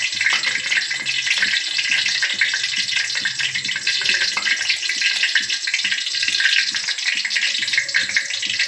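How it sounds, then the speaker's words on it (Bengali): Water lily pakoras fry in hot oil with a loud, dense, steady sizzle that crackles continuously close by, with no talk over it. "তেলটা প্রায় গরম হয়ে গেছে। এখন আমি একটা একটা করে পাকোড়া বানিয়ে নেব।"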